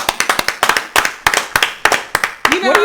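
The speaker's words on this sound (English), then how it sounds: "What are you clapping for," Hands clap in quick, irregular bursts close by, sharp and loud, with a voice starting to speak at the very end.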